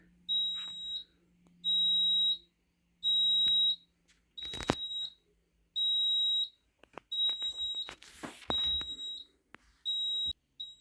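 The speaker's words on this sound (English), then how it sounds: "I'll just do it with the buzzer going" A JSB FX2202 conventional fire alarm buzzer sounding during a system test gives a loud, piercing beep that repeats in regular pulses of about a second. Clunks and rattling handling noises come through between the pulses.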